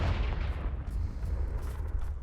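A Confringo blasting spell explodes in the Hogwarts Legacy video game, giving a dense, loud low boom that rumbles steadily throughout with no talk over it.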